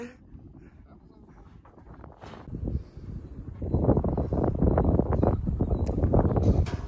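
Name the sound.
wind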